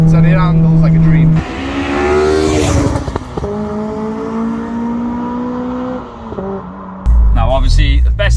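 A Honda Civic Type R EP3 engine screams under hard driving, its sharp revving tone rising and falling through gear changes and staying loud and close throughout.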